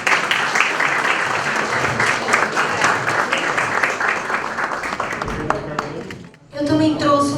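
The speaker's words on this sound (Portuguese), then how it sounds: "Uma salva de palmas." An audience claps steadily for the São Paulo mayor after his talk, a dense, sustained round of applause that fades before a voice speaks over a brief burst of renewed clapping.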